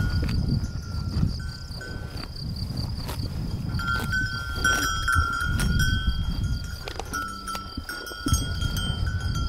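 Friesian dairy cows grazing in an outdoor pasture in Castillo, with bells clanking irregularly at moderate distance over a steady bed of chirping insects and faint rustling; no one speaks.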